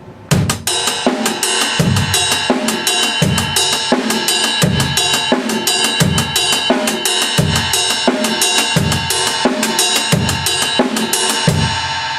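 Drum kit groove with steady hi-hat eighth notes and kick drum landing on beats one and three, a loud, even, repeating pattern played alone without talk.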